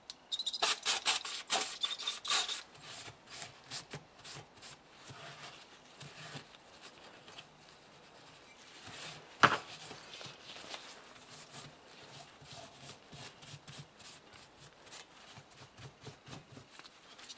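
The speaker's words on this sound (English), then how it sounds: "I'm going to spray a bit of carb cleaner just to wipe it up again." A rag wiping carb cleaner over a Stihl 4-MIX leaf blower engine block, a quiet rubbing and scuffing with an initial burst of brisk strokes, then softer intermittent wipes and one sharp knock.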